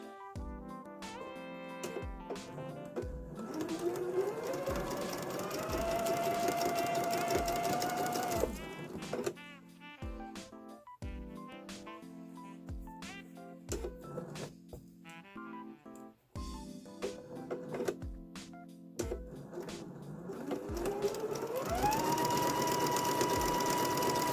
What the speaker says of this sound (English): Using a straight stitch, I'm going to stitch about 1/8 of an inch away from the fold, the inner fold.